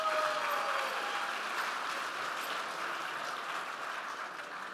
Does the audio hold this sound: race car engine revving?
no